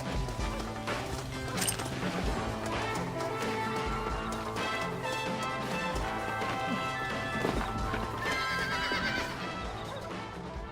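Horse in the video game Red Dead Redemption neighs and whinnies loudly, with clip-clopping hooves, crashing impacts and gunfire-like bangs in a busy, continuous action scene.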